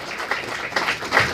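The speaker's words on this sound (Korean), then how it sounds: "여러분들 강규형 EBS 이사님께 박수 한 번 더 보내주시면 감사하겠습니다" An audience claps for a speaker at a book launch event, brief and moderately loud with several swelling bursts.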